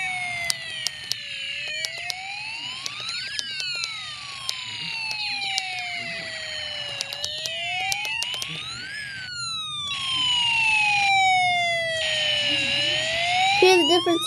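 An electronic alarm siren wailing up and down in repeated sweeping tones, loud and close, with rapid chirping bursts joining toward the end.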